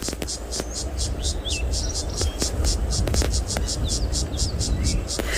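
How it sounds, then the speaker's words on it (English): Insects stridulate in a rapid, regular pulsing chirp outdoors on a South African safari, steady throughout, with faint whispery background noise and occasional soft clicks. "whether it's rubbing its wings together or rubbing its legs together, creating that sound that you can hear."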